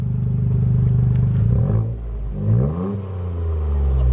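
Toyota Yaris with a straight-through exhaust revved while cold, a close, loud engine rising and falling twice in smooth sweeps over a steady idle.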